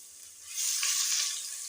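Garlic ginger paste sizzles loudly in half a cup of hot oil in a cooking pot, a steady bright hiss that swells partway through and holds to the end.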